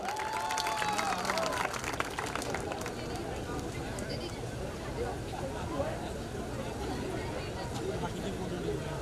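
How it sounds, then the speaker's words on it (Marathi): An audience at a community youth gathering claps for the first girl contestant, dense applause with cheering and crowd babble, with voices heard throughout. "त्यासाठी टाळ्या होऊन जाऊ द्यात. चेअर अप करा."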